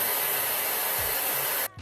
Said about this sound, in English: just turn the hairdryer off, uncap and move on to the next bit